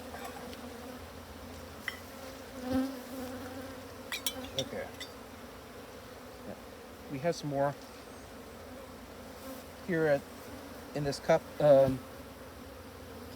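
A steady, low buzzing of many bees fills the scene close by, with a person speaking quietly and occasional handling noises over it.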